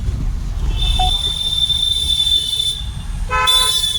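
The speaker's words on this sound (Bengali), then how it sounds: "সামনে গিয়ে একটু হর্নটা দে" A car horn on a driving-school car sounds in two close, loud toots, a long steady blast followed by a shorter one, over the rumble of the moving vehicle.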